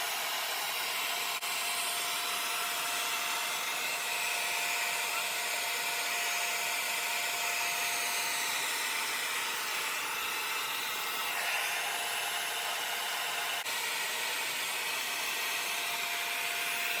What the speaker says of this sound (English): I don't have a hooded dryer, so this is how I do it. I use maximum heat, maximum speed